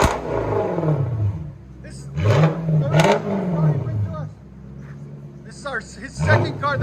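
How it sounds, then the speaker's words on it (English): A Lexus SC400 V8 with a straight-piped exhaust and X pipe revs in loud, throaty bursts that rise and fall several times, with people talking over and between the revs. "Lexus SC400 straight pipe all the way back with an X pipe. That's what it sounds like."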